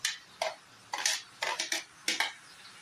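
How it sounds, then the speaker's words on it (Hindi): Duck meat curry in a pan as long-sliced onions are mixed in, a spoon or spatula scraping and clinking against the metal in about seven sharp, irregular strokes, close and fairly loud with no talk. "इस पे जो कटा हुआ लंबे लंबे वाले प्याज है उसको मिला रहा हूँ"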